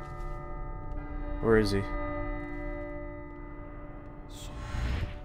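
Church bells toll in the stealth video game Dishonored, two distinct rings spaced a few seconds apart over a low steady hum. A voice speaks briefly between them.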